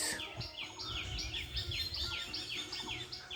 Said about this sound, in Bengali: কত সুন্দর পাখির আওয়াজ